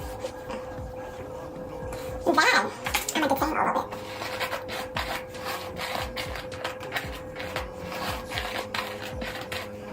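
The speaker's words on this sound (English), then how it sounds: "It's just the brush gliding through my hair." A brush works through tangled, moisturized hair coated with TGIN leave-in conditioner, making close, repeated scratchy strokes, with a denser rustling burst partway through.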